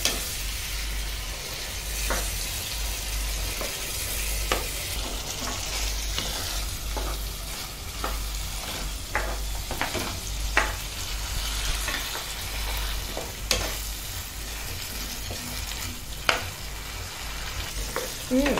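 A vaghar tempering for dal fries in hot oil with a steady sizzle, and a spoon stirring and scraping the pan gives scattered sharp clicks. The sound is close and continuous, with no voices.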